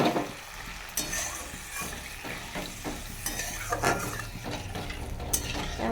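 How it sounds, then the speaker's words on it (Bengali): A spatula stirs parshe fish curry with potatoes in a pan after water has been added, giving steady scraping and clinking over a continuous soft sizzle, close and fairly quiet throughout. "নাড়াচাড়া করে নেবো, একটু জল দিয়ে দেবো।"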